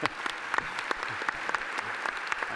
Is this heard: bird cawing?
no